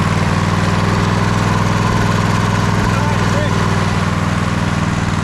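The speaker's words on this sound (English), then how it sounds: "You can hear the idles just kind of like all over the place." The V-twin engine of an MTD White GT2550 garden tractor idles loudly and close by with a steady, throbbing low rumble and an uneven beat. No other sound stands out.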